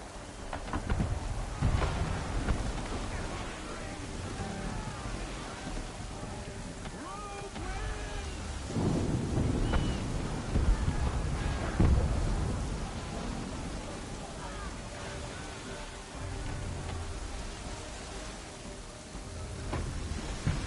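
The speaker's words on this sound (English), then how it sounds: "There's a storm coming, Captain." Thunderstorm weather in the Assassin's Creed 3 video game, steady rain with low rumbling thunder rolls, a brief voice and creaking sounds mixed in.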